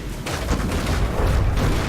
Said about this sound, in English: Look at that cram volley.